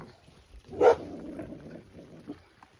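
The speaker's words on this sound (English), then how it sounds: "Dogs are seeing something they're barking at over there." A dog barks once or twice in the distance, a brief burst followed by quieter muffled yips against an outdoor background.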